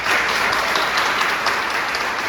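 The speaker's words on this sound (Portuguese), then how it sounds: "Você pode dar uma salva de palmas para isso?" Audience at a lecture applauding, a dense steady burst of many hands clapping at full volume throughout, with no talk over it.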